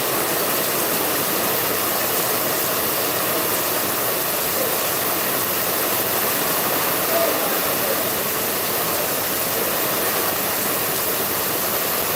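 Heavy rain falls as a dense, unbroken hiss and roar that stays at an even, loud level throughout, with no pauses or separate drops standing out.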